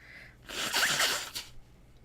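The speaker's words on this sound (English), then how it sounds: "I've got to blow my nose." One short, forceful nasal blast lasting about a second, close and fairly loud, with quiet before and after.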